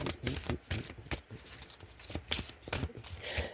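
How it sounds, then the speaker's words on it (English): A deck of playing cards is shuffled over and over at close range, a run of crisp riffling bursts in quick, uneven succession with short pauses between them. "I'm just going to shuffle till it comes out"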